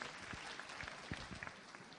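Audience applause at a live quiz show's national final, steady dense clapping throughout with a few louder individual claps standing out, moderately close.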